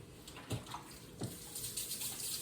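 Running kitchen tap with hands being rinsed under it, a continuous quiet gush of water with a few soft splashes as the hands move.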